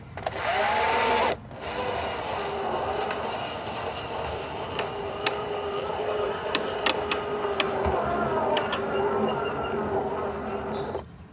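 A drill drives self-drilling screws into a kitchen drawer, a whirring buzz interrupted by sharp clicks and ratcheting, close up after a short loud burst at the start.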